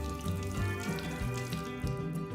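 Water runs steadily from a kitchen sink faucet fitted with a foot pedal adapter, a constant close splashing rush with a faint tonal hum underneath.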